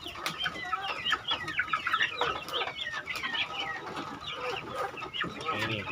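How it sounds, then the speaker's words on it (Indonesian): Several free-ranging village chickens cluck and chatter continuously close by, a busy overlapping flock with no talking. "Ayam tetangga."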